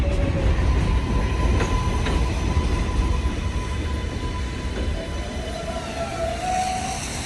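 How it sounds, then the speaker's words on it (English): A train rumbles steadily along an elevated track above a small New York City park on a snowy day, with a continuous loud roar and squealing wheel tones. "Train going on top."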